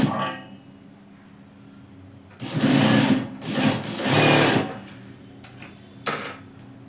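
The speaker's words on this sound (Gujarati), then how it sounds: "સેન્ટરમાં મૂકી પછી થોડી સિલાઈ મારી દેવાની, ખસે નહીં એના માટે." A sewing machine runs in several short bursts, stitching fabric to tack a pocket piece in place on a capri garment, with a steady mechanical whir close by and quiet pauses between bursts.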